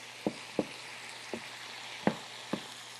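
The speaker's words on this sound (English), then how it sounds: "We're kind of letting that ginger and that garlic just briefly saute." Ginger, garlic, beef and greens saute in a stir-fry pan with a faint, steady sizzle, broken by five sharp utensil clicks spaced irregularly.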